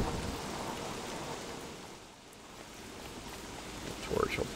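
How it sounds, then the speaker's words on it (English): Steady rain falls in the Don't Starve video game, a continuous broadband hiss that dips briefly midway and rises again, with a faint tonal game sound near the end. "The torch will probably fizzle out a lot faster. Now that it's raining."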